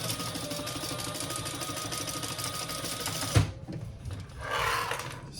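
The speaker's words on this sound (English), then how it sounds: "So now we want to base down these sides. Secure these sides." A sewing machine stitches a basting line along the side edges of a crossbody bag, its rapid, even mechanical rattle running continuously up close, then stopping with a clunk followed by fabric handling and a short burst of rustling.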